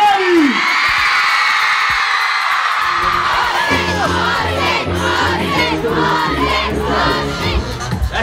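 A crowd of a couple thousand at a concert in Deer Park cheers and screams loudly and continuously, a dense roar of high-pitched shrieks with an amplified voice over it.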